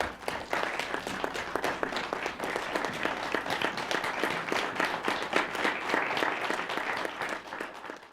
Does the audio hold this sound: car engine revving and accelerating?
no